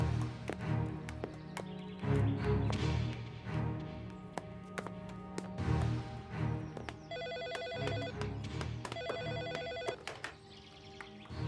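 Telephone ringing for an incoming call, bright repeated electronic ring bursts in the latter half over a busy background of music and ambient sound.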